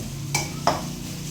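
A utensil stirs fried fish in a pan, giving two quick scraping clinks against the metal over a faint steady background.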